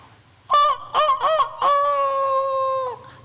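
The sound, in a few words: chicken or fowl calling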